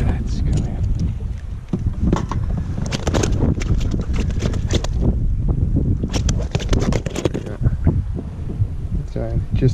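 Strong wind gusts buffet the microphone on a kayak while fishing for flathead off central Queensland, Australia, a loud rough roar with bursts of rustle and knocks throughout.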